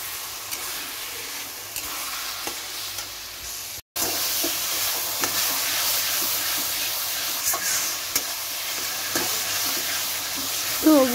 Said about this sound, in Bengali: আমি ফের কিছুক্ষণ এইটাকে ভালোভাবে কষিয়ে নেব